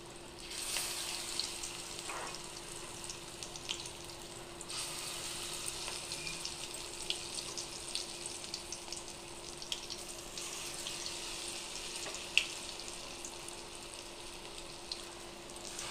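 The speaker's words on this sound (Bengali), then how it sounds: "পরেরগুলোও আবার দিয়ে দেবো, বাদ বাকি সবগুলো ভেজে নেব।" Pointed gourd fritters fry in hot oil with a soft, steady sizzle and faint crackles, quiet and continuous, carrying a low background hum and no talk.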